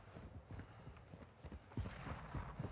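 Faint footsteps in the Call of Duty DMZ game tread in an uneven rhythm inside a building, soft and somewhat distant, growing a little heavier toward the end.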